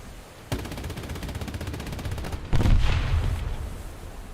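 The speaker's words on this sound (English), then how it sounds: "I love the sound of this gun though. It's such a satisfying, just high rate of fire sound." The cruiser Chicago's rapid-fire gun in a naval video game rattles off a fast, evenly spaced burst of shots. A heavier, louder boom then lands and rumbles as it fades.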